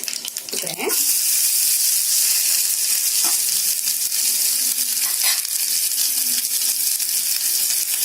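Small onions fry in a pan for adai dosa, a steady bright sizzle that holds for several seconds with an occasional stir.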